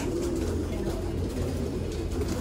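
Pigeons coo softly in a low, continuous murmur against a busy background hum, with no clear talking.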